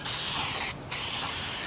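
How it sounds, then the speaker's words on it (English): Aerosol plastic adhesion promoter sprayed onto vinyl interior pieces of a 1967 Chevy Impala, two close, steady hissing bursts separated by a brief pause. "So I'm gonna go through and spray this."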